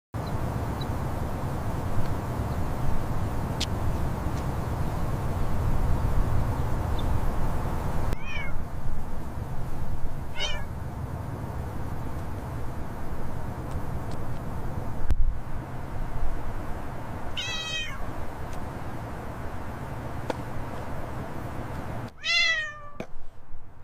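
A cat meows several times in separate rising calls spaced a few seconds apart, close and fairly clear over a constant background hiss, with no talking.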